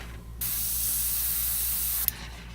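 An airbrush sprays Mission Model paint in one steady, close hiss lasting about two seconds, stopping with a short click and quiet background afterward.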